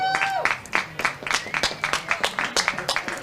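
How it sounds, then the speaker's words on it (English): A high school baseball crowd applauds a departing player, steady clapping from many hands at moderate distance with a brief tone and a faint voice under it. "Fisher gets a nice hand from the crowd here."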